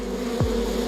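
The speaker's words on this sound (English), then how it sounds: "but also with angry bees" A short burst of loud, steady buzzing from angry bees, with one swooping past close by, a quick pitch drop as it flies away.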